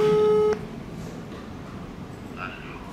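WhatsApp call ringing: a single electronic ringback tone lasting about half a second, then abruptly cut off as the call is rejected, leaving a quiet room hiss.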